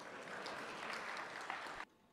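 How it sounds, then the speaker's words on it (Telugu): Audience applause at a Telugu spiritual discourse, a dense steady patter of many hands clapping at once that stops abruptly near the end, leaving quiet. "ధైర్యంగా చప్పట్లు కొట్టండి"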